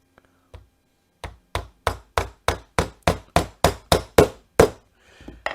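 Small wire brads hammered through Homasote board into a plywood backing on a work table, a run of about a dozen sharp, evenly spaced taps, close and distinct against silence.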